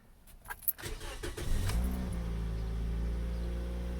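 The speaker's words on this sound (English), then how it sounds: "Starts up perfectly." 2010 Toyota Yaris with about 82,000 miles and a four-speed automatic: a few faint clicks, then a short crank, then the engine catches and settles into a steady, smooth idle.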